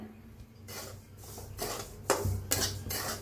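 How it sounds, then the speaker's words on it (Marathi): Jaggery being stirred to dissolve in a pan with roasting semolina gives repeated scraping, rubbing strokes of a spoon against metal, several distinct sweeps with a clink or two, close and fairly quiet, no voices. "तर एकदा हलवून विरघळून घेऊया"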